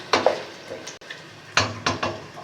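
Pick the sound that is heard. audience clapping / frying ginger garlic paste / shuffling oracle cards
frying ginger garlic paste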